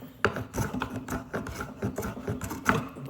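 Hand plane cutting a chamfer along a wooden mallet-head workpiece held without a vise. Rapid, rhythmic rasping strokes of the blade shaving wood repeat close and steady, with no talking.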